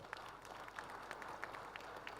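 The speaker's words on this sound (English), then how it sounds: "For that, they deserve a round of applause." Audience applause at a political speech at a people's congress, a steady wash of many hands clapping with a few sharper claps standing out, moderately distant and continuous throughout.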